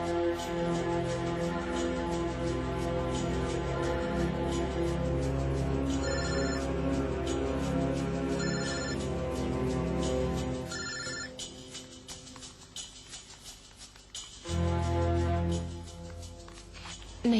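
A telephone rings on and on without being answered, a close, steady pattern of repeated electronic trills that continues without pause, with no voices over it.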